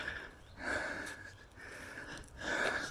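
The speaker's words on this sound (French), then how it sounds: "Vous l'entendez à ma respiration." A heavy smoker walking uphill through a small wood breathes hard, with three loud, rasping breaths at regular intervals, close to the microphone and heard without talk.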